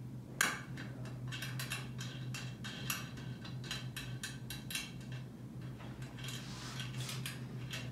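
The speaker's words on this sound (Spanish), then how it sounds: "Y colocamos nuestras tuerquitas para que quede bien ajustada." Small nuts being tightened onto the heating element of an 8-in-1 heat press machine, making a quick series of light metallic ticks and clinks, close and fairly faint, over a steady low hum.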